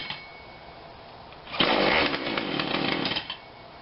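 A Husqvarna 142 40cc chainsaw on choke sputters to life after a quiet lead-in, its engine roaring loudly close by for about two seconds, then running unevenly with fluctuating revs before cutting back down.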